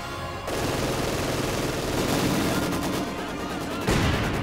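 Machine gun and mortar fire crackle in a World War II strategy video game, a dense continuous rattle of rapid shots with a heavier burst near the end.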